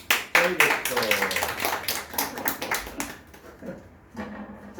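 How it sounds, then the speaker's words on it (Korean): Students clap in a classroom, a quick burst of several sharp hand claps mixed with chatter and voices, trailing off into scattered talk. "박수 쳐."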